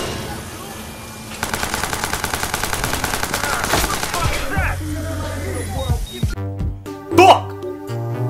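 Submachine gun fire in the Watch Dogs video game rattles in a fast, sustained burst, followed by scattered shots and game effects, while players talk excitedly over it.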